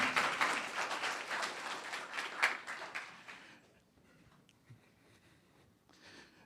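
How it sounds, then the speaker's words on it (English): Applause at a town council meeting: a room of people claps steadily for about three seconds, then it fades into quiet with a few stray claps and small room noises. "We'll do one more round of applause for Ms. Goldberg."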